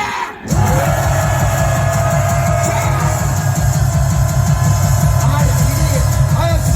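A large outdoor crowd at a patriotic political rally roars on cue in a sustained, loud mass shout that starts abruptly and holds steady.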